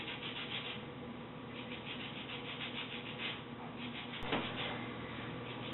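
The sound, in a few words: zesting a lemon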